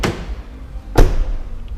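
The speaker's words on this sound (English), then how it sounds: "Here's the front door opening and closing" A car front door fitted with Dynamat sound deadening opens with a soft click, then shuts about a second later with a single solid, dull thud, close by.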